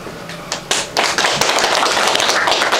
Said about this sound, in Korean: 박수를.